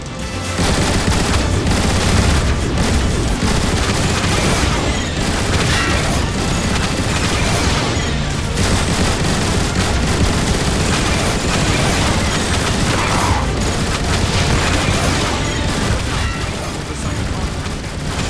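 Autobot turrets fire at Decepticons in the Transformers: War for Cybertron video game, a dense, continuous barrage of loud gunfire and booming blasts with no pauses.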